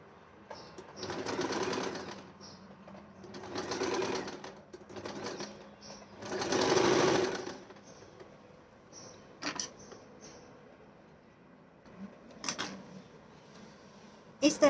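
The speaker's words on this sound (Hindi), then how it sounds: "इस तरह से यहाँ पे स्टिच करेंगे हम।" A home sewing machine stitching a fall onto a saree, running in three bursts of rapid mechanical whirring separated by pauses, with a few clicks and handling noises and a voice speaking in between.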